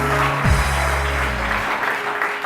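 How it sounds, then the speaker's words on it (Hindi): Studio audience applause on a televised Hindi morning talk show, a steady continuous wash of clapping that holds at an even level, with a low hum and a brief thump partway through. "बहुत सारी तालियां रानी आपा के लिए।"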